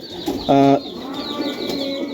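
A Teddy pigeon in a Rajshahi highflyer loft gives one short, low coo close by over a soft background murmur.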